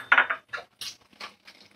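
A fork clinks against a bowl as two eggs are beaten, giving about five short, sharp bursts of scraping and tapping separated by brief silences. The sounds are close and fairly loud.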